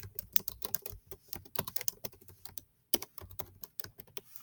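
Someone types on a computer keyboard while editing a document. The bursts of crisp key clicks come close and clear, with brief pauses between runs and one longer gap near the middle, and no talking.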